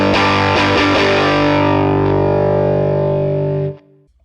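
A distorted indie pop guitar patch played through a Hotone Ampero Mini multi-effects unit: a few bright strummed chords with chorus shimmer ring out, then a sustained chord decays and cuts off near the end.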